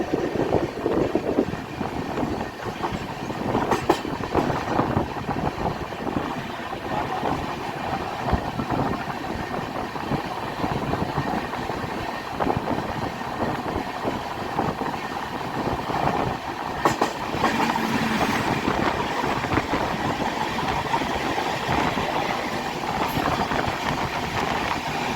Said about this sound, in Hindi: तो गाइस किसी ने चैन खींच दी, इसके वजह से डिपार्चर होकर भी ये ट्रेन रुक गई।